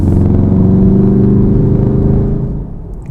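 A Volkswagen Golf R hatchback engine gives a loud, steady rumble with a deep, droning tone, holding level before easing off slightly at the end.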